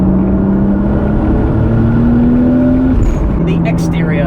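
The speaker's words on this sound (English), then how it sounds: "you can really hear the turbo just spool up" A modified Toyota Supra twin turbo with an HKS SSQV blower valve drones steadily and loudly, engine pitch climbing gradually before easing off, with faint high hissing toward the end.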